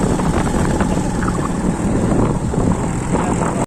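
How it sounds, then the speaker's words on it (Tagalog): A steady motorized tricycle engine drone runs throughout, loud and unbroken, idling or running close by, then cuts off abruptly at the end. "parang narinig ko yung motor yung tricycle"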